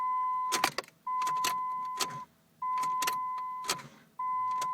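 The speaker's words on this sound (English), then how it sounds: "You hear the fuel pump engage, and you hear it like start to turn." A Dodge Neon that will not start cranks over repeatedly: three or four cranking bursts alternate with a steady electric whine from the fuel pump priming, close and loud, with no engine catching and no talk.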